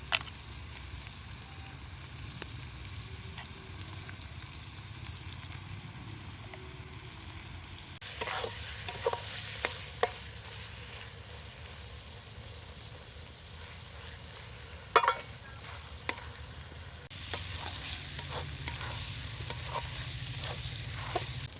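Goat meat sautéing for khichuri in a pot, a steady close sizzle and frying hiss throughout with occasional stirring scrapes and clatters of a spoon against the vessel, no one speaking.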